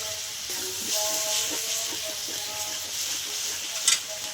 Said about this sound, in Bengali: সামান্য জল দিয়ে আর একটুখানি কষিয়ে নেব